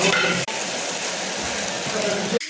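Fat added to a pan of frying mutton sizzles loudly and steadily, a dense hiss broken by two brief sharp dips as the pan is stirred.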